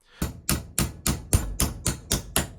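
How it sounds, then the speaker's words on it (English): A hammer strikes a Cryptosteel seed-phrase capsule nine times in a steady, even rhythm, each sharp metallic blow close and loud with nothing else heard between. "we try to destroy it manually using a hammer"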